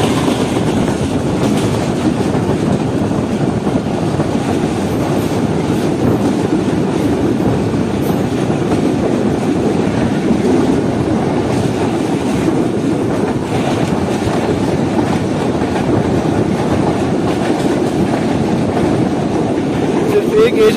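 Pak Business Express train running from Karachi to Lahore, heard from inside an economy-class coach as a steady, loud, low rumble with wind buffeting and faint rattling, continuous throughout.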